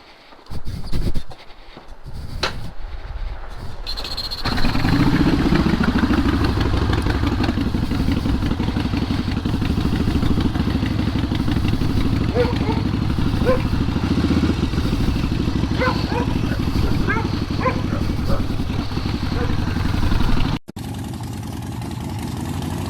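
A Harley Davidson Sportster Iron 883 motorcycle is bump-started. After a few brief knocks and clunks, the V-twin engine catches and runs, settling into a loud, close, lumpy idle. It cuts briefly near the end before continuing.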